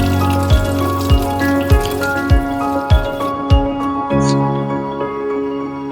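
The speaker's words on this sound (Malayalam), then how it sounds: "5-6 വട്ടം നന്നായിട്ട് വെള്ളത്തിട്ട് കഴുകിയെടുക്കണം" Crabs being washed by hand in water, with close splashes, drips and soft thumps repeating about every half second over a steady background hum.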